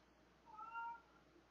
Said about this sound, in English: Are you killing the cat over there?